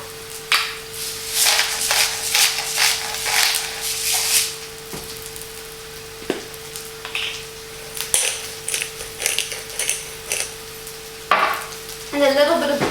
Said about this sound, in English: let the mushrooms cook down